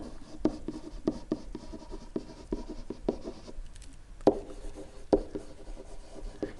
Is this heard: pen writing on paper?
yes